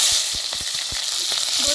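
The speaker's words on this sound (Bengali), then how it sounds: "কাঁচা লঙ্কাটা এদিকে ভাজা হয়েছে" Green chillies fry in hot mustard oil with whole cumin in a heated wok, giving a bright continuous sizzle with small pops and crackles.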